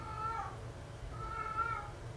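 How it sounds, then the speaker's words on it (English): A stray cat meows outside a bedroom window, two drawn-out calls heard at a distance, faint against a steady low background hum. "That is a cat outside of my bedroom window."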